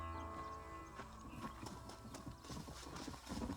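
Hooves clip-clop in a quick, steady rhythm as a horse moves along in the western video game Red Dead Redemption, fairly quiet and continuous, with a faint whinny mixed in.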